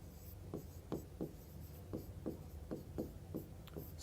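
Chalk or marker strokes on a classroom board during a maths lesson, a run of short rhythmic scratches about every half second, close and clear over a low room hum, no talk.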